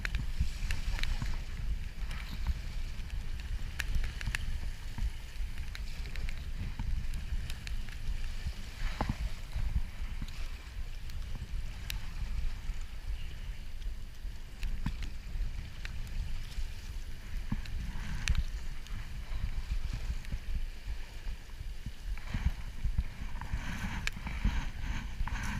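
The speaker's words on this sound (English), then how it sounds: "Tactical kayaking." A kayak paddles slowly across Loch Ness in winter: faint water sloshing and paddle strokes under steady wind noise buffeting the microphone.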